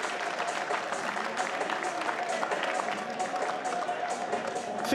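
A squash crowd at the men's final of the Optasia Championships 2024, Farag against Coll, applauds and cheers on its feet. The dense, steady roar of clapping runs continuously throughout.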